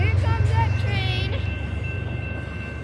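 A train rolls past on the rails, a steady low rumble with rhythmic wheel clatter and a faint high squeal, loud and close, with a voice talking briefly at the start.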